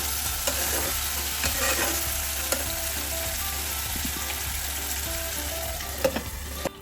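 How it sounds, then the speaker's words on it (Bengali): Chicken do pyaza being stirred in a pan, a steady sizzle under repeated scraping and clanking of a spatula against the metal for several seconds, with a few sharper knocks toward the end and no speech. "একটু ভালো করে নেড়ে দিয়ে আবার আমরা 2 মিনিটের মতো ঢেকে দেবো।"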